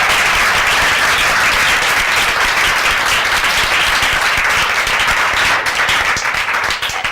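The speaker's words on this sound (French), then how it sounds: "On les applaudit très fort." Loud, sustained audience applause from children and congregation of the Fondation Miracle church at a Yopougon gathering, dense steady clapping throughout with no pauses.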